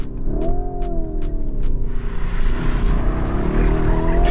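A Lamborghini Urus SUV accelerates hard with a loud, continuous engine roar, its pitch rising steadily and then holding high as the revs build, close by and with no talk over it.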